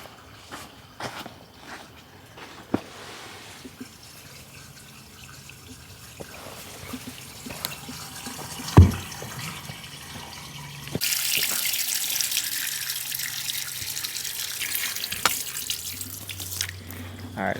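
Water pours into a drain pipe at a plumbing job, a steady running flow with a few knocks and a louder gush in the second half, close by.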